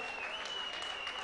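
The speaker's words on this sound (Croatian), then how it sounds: "Molim jedan veliki aplauz." A crowd at the closing ceremony of the Croatian World Games applauds the bronze-medal veterans' futsal team, a brief burst of steady clapping with a faint sustained whistle-like tone running beneath it.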